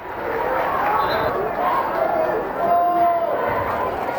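At a high school basketball game between the Owatonna Huskies and the Lakeville South Panthers, a gym crowd roars and cheers for a hometown player. The cheering is loud and continuous, with voices and shouts mixed into the swell.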